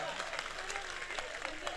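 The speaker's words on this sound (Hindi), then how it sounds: "यार ताली बजाओ यार, एक बार जोरदार।" An audience at a Hindi poetry recital claps loudly in a dense, continuous wash, with a voice faintly heard over the clapping.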